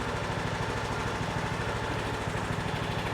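A Craftsman T110/T140 lawn tractor's small engine runs steadily nearby, a loud, even, pulsing drone with a rapid regular chug throughout and no voices.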